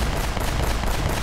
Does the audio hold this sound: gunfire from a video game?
yes